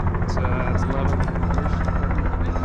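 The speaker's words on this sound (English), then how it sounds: "We can see the helicopter coming in there." Steady, loud rotor drone of a helicopter at a flight school in southern Utah fills the clip, a constant low throb with a faint whine on top.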